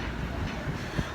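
Subway train riding the rails in New York City, a steady low rumble with faint rhythmic clacks, heard briefly from inside the car.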